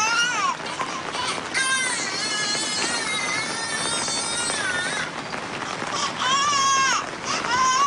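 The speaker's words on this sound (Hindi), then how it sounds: "मैंने बच्चे की और रोने की आवाज़" A played sound effect of a baby crying, heard as repeated rising and falling wails in several bursts under steady background noise, with voices in the background.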